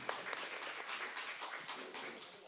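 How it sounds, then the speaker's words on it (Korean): A quiet audience at a book concert claps to welcome author Kim Min-seop, soft scattered clapping heard at a distance and low in level. "일단 박수로 맞이해 주시기 바랍니다"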